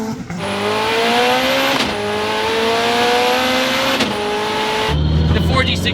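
A 900-horsepower Mitsubishi Evo accelerates hard, its engine climbing loudly through several sharp gear shifts with rising pitch between each, close and intense, ending in a lower rumble.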